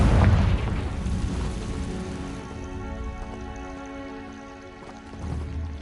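Confringo spell explosion in Hogwarts Legacy, a loud deep boom at the start that rolls off into a long fading rumble with faint debris patter.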